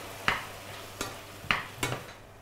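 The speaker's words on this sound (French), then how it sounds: "On mélange à nouveau, puis on cuit à couvert pendant 5 minutes." Mango and pineapple mixture stirred in a pan with a little olive oil and water, a spoon giving four sharp scraping strokes at an even, unhurried rhythm over a low sizzle, close and fairly quiet, no talk.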